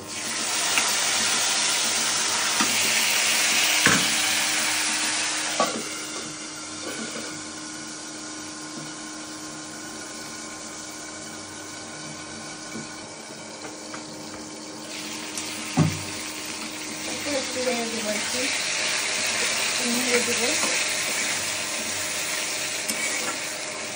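Meat for kala bhuna hits a pan of golden fried onions, giving a loud, steady sizzle with a hiss like running water, broken by a few clanks and stirring sounds, and no voices.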